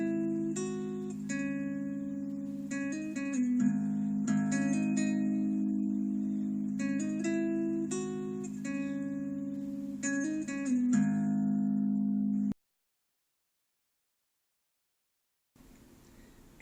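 Guitar playing a riff at full song tempo, a quick repeating pattern of plucked notes over a sustained low drone, clear and steady for about twelve seconds before stopping into silence.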